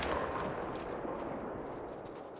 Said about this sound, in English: So we're gonna shoot this one.